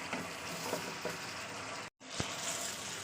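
Chicken and potatoes being sautéed dry in a pan for Bengali chicken kosha, with a steady close sizzle and occasional stirring scrapes, broken by a brief silent gap.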